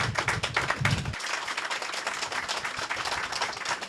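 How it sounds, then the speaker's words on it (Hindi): Audience applause fills an office inauguration ceremony for a minorities movement in Lahore, steady dense clapping throughout with a deeper rumble in the first second, loud and continuous. "भरपूर तालियों से उनको वेलकम करें।"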